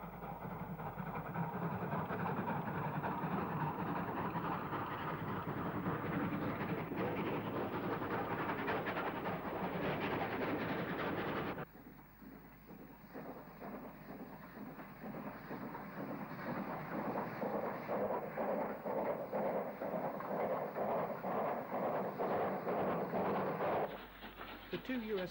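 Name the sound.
unrebuilt Pacific steam locomotive en route to Southampton docks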